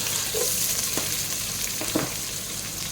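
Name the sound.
onions frying in hot oil for rice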